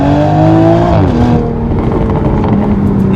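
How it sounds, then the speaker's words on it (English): A 2020 Toyota Supra accelerates hard from inside the cabin, its loud engine note rising steadily through the revs, dropping sharply at an upshift, then climbing again as a continuous roar. "let's experience how this thing feels with a quick acceleration test"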